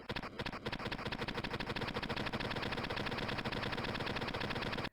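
The Red Dragon machine gun in a video game fires one long unbroken burst, a fast, loud, evenly spaced rattle lasting about five seconds before cutting off.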